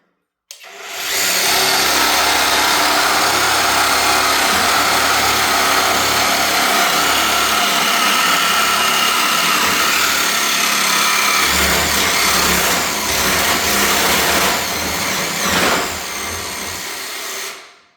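Fein metalwork power tool running loud and continuous for about fifteen seconds, a harsh whirring motor roar with shifting load and grinding texture that dips briefly near the end before spinning down.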